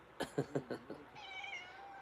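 A cat meows close by in a rapid run of about five short cries, followed by a longer drawn-out meow, heard alone without talk.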